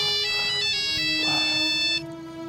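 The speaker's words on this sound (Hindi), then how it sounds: "सरगम का फोन" A phone ringtone plays a bright, steady electronic melody of sustained tones for about two seconds before cutting off, close and clear with no talking.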